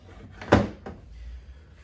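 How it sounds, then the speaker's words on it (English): A wooden drawer in an antique roll top writing slope with inlaid ebony decoration slides shut with one firm close knock, then a softer second knock follows. The room is otherwise quiet. "Push the drawer shut and the roll top comes over."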